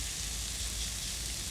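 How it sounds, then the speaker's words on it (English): Steady, dense crackling sizzle of garlic frying in a hot pan, continuous and close with no voices. "you can just sort of see and hear it sizzling away"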